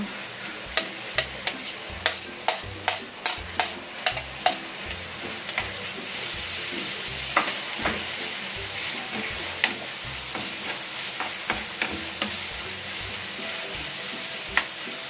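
Garlic sautéing in a pan for creamy chicken with mushroom, a steady close sizzle broken by a run of sharp, evenly spaced scraping knocks at first, then sparser stirring clicks, with no talking.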